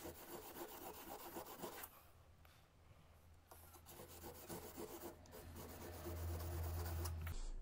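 A pruning shears blade is rubbed back and forth on a whetstone, giving a steady close rasping scrape that continues with brief pauses and grows slightly louder toward the end.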